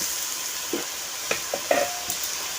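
Spice masala sizzles in a pan as it is stir-fried for a sour and spicy puti fish curry, a steady close frying hiss broken by a few sharp spoon scrapes and clinks.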